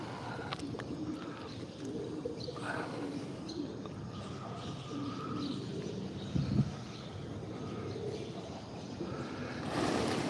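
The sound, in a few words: pigeons cooing under bridge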